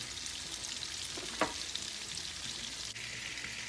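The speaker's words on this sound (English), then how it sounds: "So you're gonna allow the butter to melt, and I'm using about half cup of butter" Half a cup of butter melts in a pan for shrimp pasta, giving a steady, even sizzle with soft crackle. One brief louder pop breaks the hiss partway through, and no one speaks.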